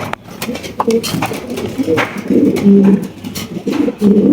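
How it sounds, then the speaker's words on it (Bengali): Yellow Lahori pigeons coo in low, throaty bursts at a pigeon sale, close and fairly loud, with a voice sounding in the background. "এখানে কিন্তু রয়েছে মার্শাল্লাহ ইয়েলো কালারের লাহরি কবুতর"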